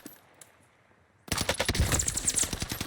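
Gunfire in a Warzone solos match bursts in after a quiet stretch, a loud, dense run of rapid shots that continues to the end without pause.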